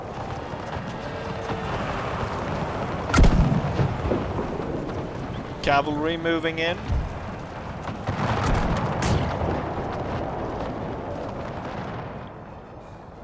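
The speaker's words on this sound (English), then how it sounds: "Cannon firing on my hussars." Cannon fire in Empire 2 battle: a sharp heavy boom, then later rumbling blasts amid battlefield noise, with someone speaking briefly over the action.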